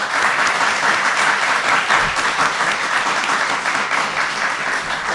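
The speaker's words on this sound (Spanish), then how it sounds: "Pues vamos a darle un aplauso a tu contubernio, porque están aquí hoy" Loud, sustained clapping from an audience at a live podcast recording in Vigo, a thick wash of many hands that holds its level throughout without any voices.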